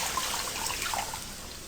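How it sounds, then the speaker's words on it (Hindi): Water pours steadily into a pot of mutton trotters, a brief continuous splashing stream at close range with no talk. "अब इसमें मैं पानी डाल रही हूँ गलने के लिए, यानी पकने के लिए"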